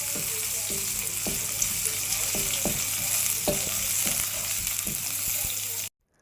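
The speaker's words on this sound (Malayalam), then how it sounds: "ഒരു കടായി ചൂടായി അതിനകത്ത് എണ്ണ ഒഴിച്ച് കുറച്ച് കടുകിട്ട് വറ്റൽമുളകിട്ട് ചെറിയുള്ളി ഇട്ട് നന്നായിട്ടൊന്ന് വഴറ്റിയെടുക്കുന്നുണ്ട്" Mustard seeds, dried red chili and shallots sautéing in oil in a hot kadai, a constant dense sizzle with regular spatula knocks against the pan, close up, cutting off abruptly to silence at the end.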